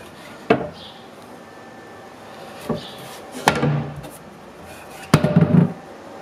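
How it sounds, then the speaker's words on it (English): A self-closing toilet seat on newly installed hinges in a homemade composting toilet for a tiny house, giving a few separate wooden knocks and clunks spread over several seconds, the last one louder and rattling briefly. "You can see it's self-closing."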